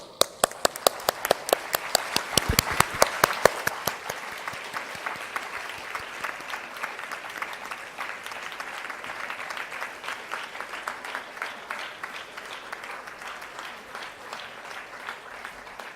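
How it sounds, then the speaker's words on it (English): Graduates at a university convocation give a big round of applause, starting with sharp, distinct claps that swell into dense, sustained clapping from a large crowd lasting the full stretch. "thunderous round of applause."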